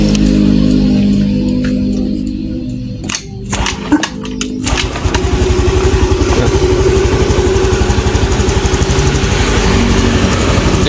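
A Honda Beat scooter with a fault that makes it rev by itself runs alone at close range, its engine note unsettled at first and then settling into a steady, loud, even idle.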